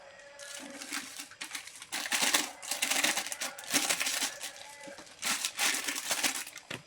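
Two plastic bags are stacked and handled up close, giving bursts of sharp crinkling and rustling that come and go in uneven clusters, with brief quieter gaps between.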